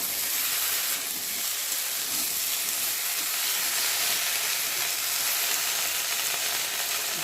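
Papaya and other vegetables cooking without oil in a kadai for shukto, a loud continuous hiss and sizzle with faint stirring underneath, no talking.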